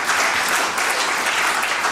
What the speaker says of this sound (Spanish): Denle un aplauso a Él porque Él vive para siempre